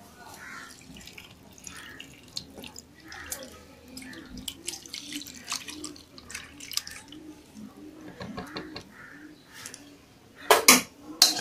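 Whey drips and trickles through a muslin cloth as homemade paneer is strained in a kitchen, soft irregular splashes with a few sharper clatters near the end.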